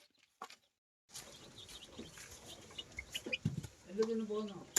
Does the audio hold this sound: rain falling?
no